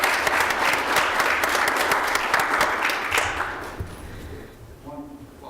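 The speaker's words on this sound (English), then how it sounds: "If you would give her a round of applause." Applause at a county risk management committee meeting: a brief burst of clapping from a small group in a meeting room that fades out near the end, followed by a quiet voice.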